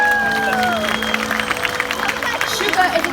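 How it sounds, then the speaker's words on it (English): The crowd at a SeaWorld killer whale show in San Diego claps and cheers in a lively burst of applause, with a voice trailing off over the first second and crowd babble mixed in. "Everyone give a big round of applause to Shuka."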